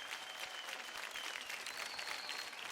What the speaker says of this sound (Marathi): जोरदार टाळ्या होऊन जाऊ द्या स्वप्नील आणि पूजासाठी